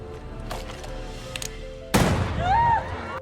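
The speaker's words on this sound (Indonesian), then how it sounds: "lalu menembak Matthew hingga tewas di depan Emma." A single sharp gunshot cracks out mid-scene in a western film set at a gold mine, loud against low background music, followed by a ringing tail and a rising tonal swell.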